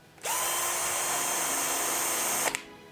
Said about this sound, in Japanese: きっとねキモのが音が静かで滑らかに回ってるようなそんな印象を受けますね。